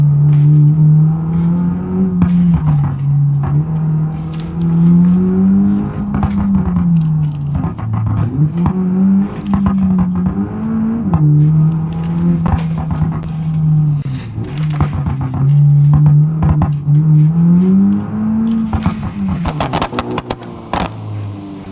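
A 2015-2023 Skoda Kodiaq with a custom engine sound in the BeamNG driving game: a loud, steady engine drone rises and falls as it accelerates and shifts, with sharp backfire crackles and pops scattered throughout.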